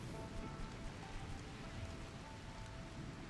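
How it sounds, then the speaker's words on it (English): Steady rain pours down in a Rimworld colony, a dense, even hiss that holds constant and fairly quiet from start to finish, with no voices over it. "It's raining."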